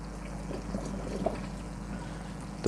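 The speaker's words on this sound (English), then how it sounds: "I've put a trickle in as well." A steady trickle of tap water runs into a koi tank, a constant soft splashing flow heard alone at close range, with a brief louder knock at the very end.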